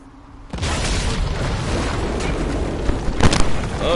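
An explosion in Dragon Age Inquisition hits suddenly after near silence and rolls on as a loud, sustained booming roar, with a sharper crack near the end.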